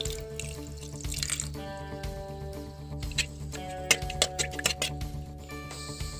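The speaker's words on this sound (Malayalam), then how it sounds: "കുറച്ച് വെള്ളം" Water splashes and trickles from a tap into a pan of chicken seasoned with turmeric, chili powder and salt, with intermittent patters and splashes over steady background music.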